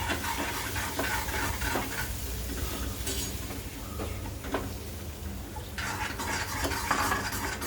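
Yogurt being stirred into a vegetable dish in a pan with a spoon, for a fasting-style sweet potato paratha and puri meal, giving steady scraping and clinking strokes over a low, continuous sizzle with no talking.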